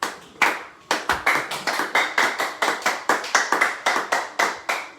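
A church congregation claps together in a steady, even rhythm, about three to four loud, sharp claps per second, close and unaccompanied by talk.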